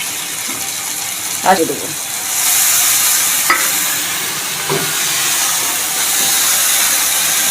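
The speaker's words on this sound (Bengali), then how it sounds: "এখন আমি কেটে রাখা টমেটো দিয়ে দেবো" Chopped tomatoes go into hot oil in a pan while catla fish with chui jhal and taro is being cooked. A loud, steady sizzle begins partway through, with metallic clinks and scraping and a short spoken phrase.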